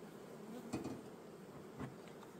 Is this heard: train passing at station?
no